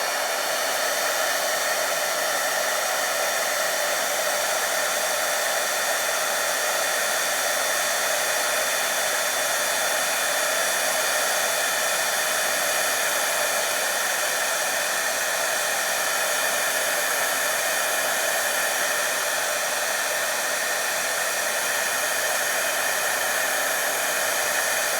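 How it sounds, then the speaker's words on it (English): A heat gun blows continuously while melting embossing powder on a stamped sentiment, a steady, loud whooshing hiss of forced hot air with no break. "A heat gun emits heat."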